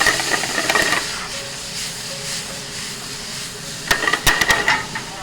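Mushrooms hit melted butter in a hot pan and hiss with a steady, close sizzle, joined near the end by a few sharp utensil clicks and scrapes.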